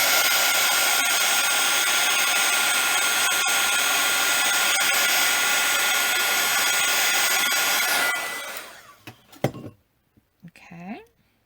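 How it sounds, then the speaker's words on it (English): A heat tool blows with a steady, loud whooshing roar for about eight seconds while drying paint on a handmade fold flap card, then cuts off, followed by a few soft handling knocks. "we're going to give this a quick shot with the heat tool"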